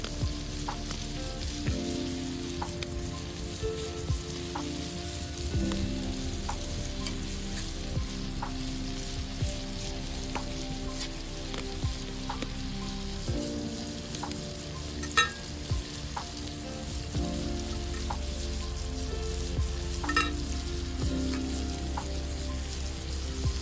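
Chicken frying in oil and butter for a village-style chicken fry: a steady, dense sizzle with constant crackling and popping, close and fairly loud throughout, with no voices.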